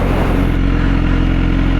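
Motorcycle idling steadily as it rolls off with the clutch released and no throttle applied, a loud, close, even engine putter with no revving and no talk.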